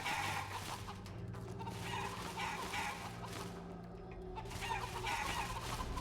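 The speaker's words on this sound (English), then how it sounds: "Here's some chickens." Steady chicken clucking in Metal Gear Solid 4 over a continuous game-like ambient hum, several birds fussing at moderate volume throughout.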